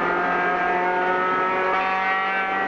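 A rally race car engine drones steadily and loudly from inside the cabin, a sustained rich harmonic roar held at constant revs on the track.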